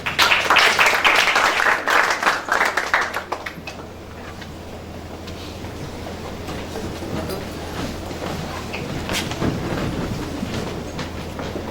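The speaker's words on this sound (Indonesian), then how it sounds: "Boleh beri tepuk tangan sekali lagi buat pesan firman Tuhan yang dibawakan." A church congregation claps loudly after a sermon; dense applause fills the first few seconds, then stops, leaving a quieter room with scattered small noises.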